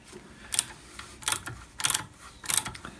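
A hand tap cuts threads into drilled holes in a metal ballnut mount for a drill press, giving four evenly spaced bursts of crisp ratcheting clicks, close up, with no talking.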